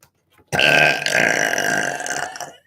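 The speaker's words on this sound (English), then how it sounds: "Spirit makes me burp for anyone who's new here." A single long, loud burp rises abruptly and rumbles on for about two seconds before trailing off, close and alone with no talk over it.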